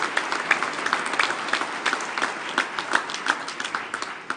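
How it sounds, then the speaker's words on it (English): An audience applauds a trophy presenter at a GNCC senior finals awards ceremony, dense steady clapping from a crowd at moderate distance, sustained for several seconds with no voices on top. "Brian, give him a big round of applause."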